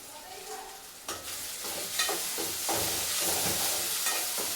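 Ginger garlic paste fries in a hot pan and is stirred steadily. A dense, loud sizzle fills the whole stretch, broken by repeated scraping strokes of the spoon, with no talking.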